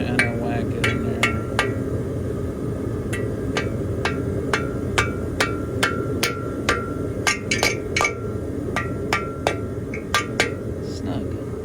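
A part is hammered into a VW engine during a rebuild, a long run of sharp, ringing metallic strikes at a steady, fairly quick rhythm close to the microphone over a background hum.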